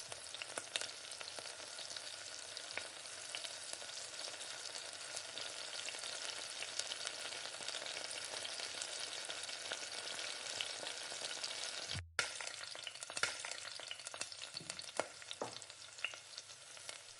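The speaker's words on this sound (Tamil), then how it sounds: "ஸ்டவ்வை லோ ஃப்ளேமில் வச்சு நல்லா வதக்கிக்கோங்க." Onions and tomatoes with salt sautéing in a pan on a low flame for fish curry, a quiet, even frying hiss with a short break and a few light stirring knocks near the end.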